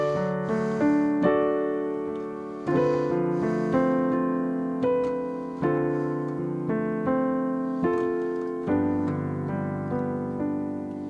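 A piano plays the final line of a song as a sequence of ringing chords and melody notes at a gentle pace, each attack decaying slowly before the next chord.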